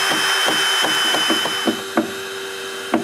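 Handsaw or power saw trimming excess wood off the ends of newly installed benches on a restored wooden deck, heard as a steady rasping drone with a few sharper knocks near the end, no talking.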